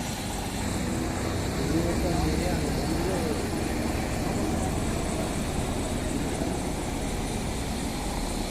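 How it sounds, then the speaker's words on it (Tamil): A steady, loud helicopter drone with rotor and engine noise that fills the whole stretch without pause, heard close by, at a helipad for flights to Kedarnath in the Himalayas. "இந்த ஹெலிகாப்டரில் தான் இப்போ நாங்களும் போக போகிறோம்"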